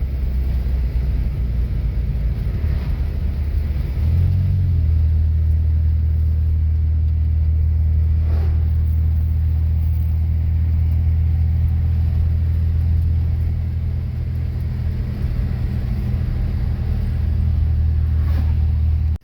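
A 1987 Chevy Celebrity Eurosport with a troubled first-to-second shift, heard from inside as steady low engine rumble and road drone, with a brief rise in engine note early on before settling into a constant cruise.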